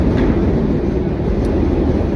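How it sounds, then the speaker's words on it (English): A train passes through the city in a loud, continuous roar that fills the whole moment without a break, close by and steady. "Oh, the train"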